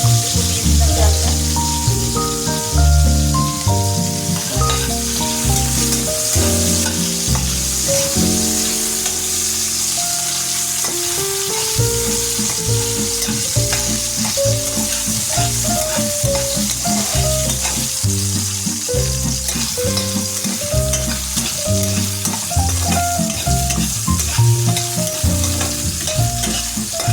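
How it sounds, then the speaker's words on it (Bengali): Thickly cut potato pieces sizzle steadily in hot oil in a pan, with stirring scrapes and clinks breaking in regularly over a long, continuous fry; no one speaks. "আলুগুলো আমি একটু বড় সাইজ করে কেটেছি, এভাবে ভেজে নিচ্ছি।"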